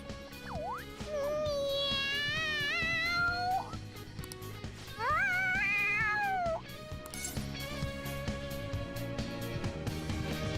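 An excited cat meows in the video game Persona 5 Royal, with two long drawn-out wavering cries, loud and close, over steady game background music.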